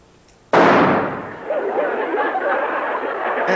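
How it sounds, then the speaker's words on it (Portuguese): A prop gun is test-fired in a 1973 Chespirito comedy sketch, giving one sudden loud bang followed by a long stretch of steady, noisy crowd sound and chatter. "eu gostaria de experimentar a arma"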